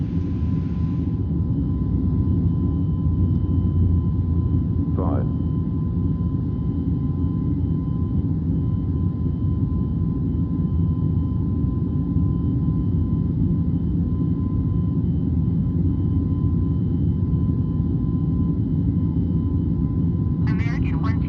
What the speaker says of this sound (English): Plane is not supposed to be taking off right now.